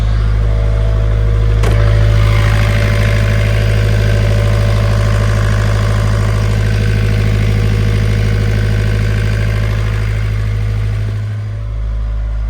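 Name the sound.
boat engine idling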